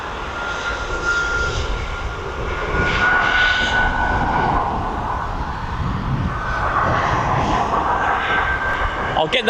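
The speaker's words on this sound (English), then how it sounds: "We've got a Ryanair from Parma on finals." Ryanair airliner on final approach to East Midlands Airport, its engines producing a loud, steady rumbling roar with a faint whine, close and continuous, while a voice talks over it.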